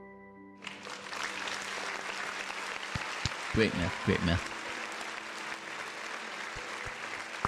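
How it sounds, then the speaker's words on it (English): One person's hand claps sound like a full audience applauding, a sustained, dense clatter that starts suddenly and runs throughout, with a voice speaking briefly over it. "when I clap, it's like an audience clapping"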